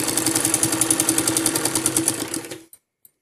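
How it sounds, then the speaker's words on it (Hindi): A sewing machine stitching a salwar with piping runs in a fast, even rhythmic chatter for under three seconds, close and steady, then stops abruptly, leaving near silence and a single faint click. "इसी तरीके से ये हम पूरे पे सिलाई लगाएंगे।"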